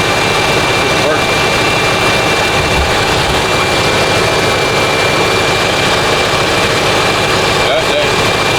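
Lincoln Town Car engine idling after its idle control valve was replaced, a loud, steady, continuous hum and whoosh held close throughout, with a voice talking over it.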